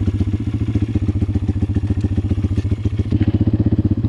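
Pitgang 140XD pit bike single-cylinder engine idling close up with a fast, steady, loud thumping beat and faint mechanical clatter, running without throttle.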